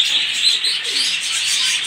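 Ornamental pigeons cooing close by, soft repeated murmuring coos with a faint flutter, alone without voices.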